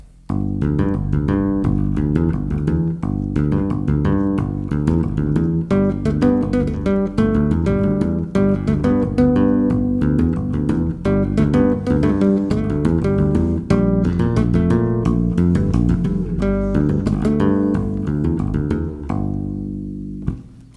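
Bass guitar tapping a cartoon theme, bass line and melody played together in a bouncy, continuous pattern of clear plucked notes, loud and alone, fading at the end.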